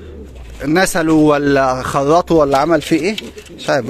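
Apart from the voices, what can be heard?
pigeon cooing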